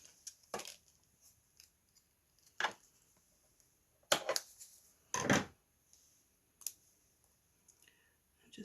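Dimensional tape is cut during a Christmas papercraft project, heard as a few sharp, close snips and clicks scattered across a quiet background.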